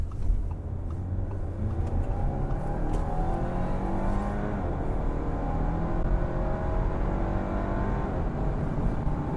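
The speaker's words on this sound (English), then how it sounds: "we are talking a 4-cylinder engine here, and it is turbocharged" A 2017 Audi A4 quattro's turbocharged four-cylinder engine pulls hard and steadily on the freeway, its revs climbing in rising harmonic sweeps, loud and close from inside the cabin with a constant road rumble underneath.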